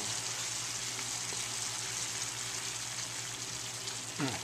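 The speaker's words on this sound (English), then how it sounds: "at this point we need to add maybe 2 tablespoons of heavy cream" Steady loud sizzle of onion and squash stewing in a pan with heavy cream, a continuous bubbling hiss with a brief stir or scrape near the end.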